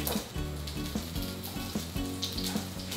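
Pork intestines sizzle loudly in hot oil in a wok, a dense, steady frying hiss that runs the whole time, with clanks and scrapes of stirring breaking in at intervals.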